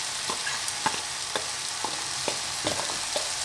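Tomatoes frying in a pan for a chayote and prawn curry, a steady close sizzle broken by a series of sharp scraping stirs about every half second, with no voices.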